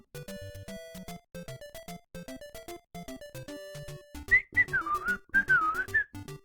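A person whistles a wavering tune in two phrases, starting after the chiptune music of the NES game Adventures of Lolo, which keeps playing underneath.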